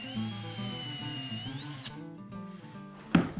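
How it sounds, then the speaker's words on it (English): A power drill whining at high speed as it pre-drills and countersinks wooden cleats, the motor pitch dipping under load before stopping, followed by a brief knock of wood. "I'll pre-drill and countersink the cleats and attach them to the inside of the rails with wood glue and 1 1/4 screws"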